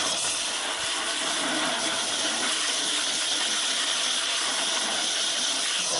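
Water from a hose rushing into and rinsing out a vacuum cleaner's dust bucket, a steady bright hiss and splash that stays constant and close for the full six seconds.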